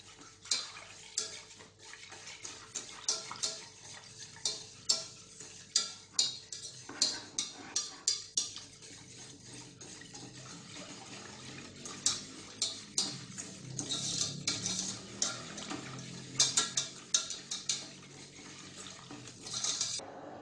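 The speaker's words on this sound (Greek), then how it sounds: "Ανακατεύουμε." A spoon stirring a simmering cream mixture in a pot for vegan cornets, giving irregular light clinks and taps against the metal over a quiet background.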